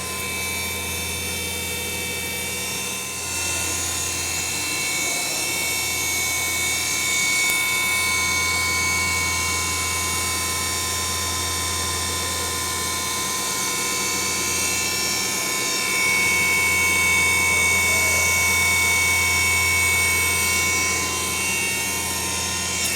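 A motor drives an oil extraction machine at an agricultural research station, giving a loud, continuous whining hum with a steady drone and high tonal whine that swells slightly toward the end.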